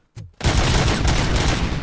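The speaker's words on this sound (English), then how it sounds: "Gunshots? What's going on?" Video game gunfire erupts after a brief quiet, a loud dense burst of rapid overlapping shots that continues without pause.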